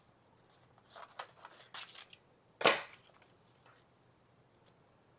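Scissors snip through a paper sewing pattern for a dolman top, several quick close cuts followed by one sharper, louder snip, then quiet.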